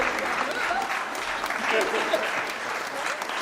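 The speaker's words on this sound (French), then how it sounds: "On les applaudit" A small group applauds in dense, even clapping with voices mixed in underneath throughout.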